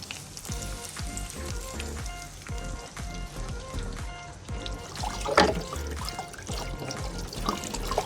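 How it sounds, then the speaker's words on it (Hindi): Chicken shami kababs sizzling and frying in a pan, a steady close crackle with bright spattering pops throughout and a brief louder burst midway. "ये हमारी शामी फ्राई हो गई है"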